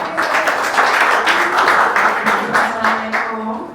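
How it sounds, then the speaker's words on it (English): Audience applause at a community event, a steady dense wash of clapping filling the room throughout, with no clear speech over it. "applause"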